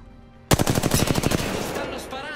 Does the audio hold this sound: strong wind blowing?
no